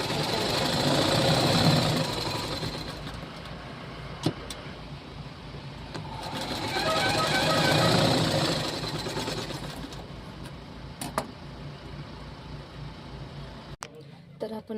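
A sewing machine stitches along the edge of very thin fabric in two long whirring runs, rising and falling with speed, broken by short pauses, clicks and someone speaking in Marathi.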